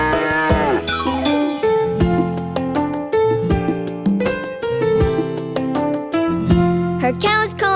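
A cartoon cow moos inside a bright children's animal song, with the long, tonal lowing carried over steady music and chiming bell-like notes.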